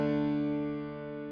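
A sustained piano-like synth tone in FL Studio, heard before any equalizer is applied, held alone as a single steady chord that slowly fades.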